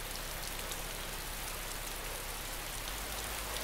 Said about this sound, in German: das war ein Regentropfen